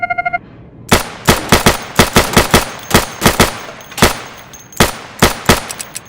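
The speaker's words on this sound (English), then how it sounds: "Go over to the firing booth. Take down those targets as quickly as you can." Gunfire rings out at targets on the training range of the video game Insurgency: after a brief beeping countdown, loud, close single shots and quick pairs crack out in an irregular rhythm.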